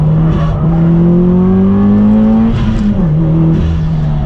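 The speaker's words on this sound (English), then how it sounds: "I'm in second, so I have to remember to change up to third." Race car on a track accelerating hard in second gear, engine note climbing steadily, then a quick upshift to third with a brief dip before the revs rise again, loud and close throughout.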